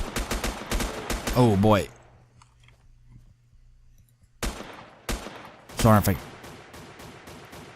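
Gunfire in the survival video game Next Day Survival: sharp shots in two bursts, a quick cluster early and another a few seconds later, with someone speaking briefly between them.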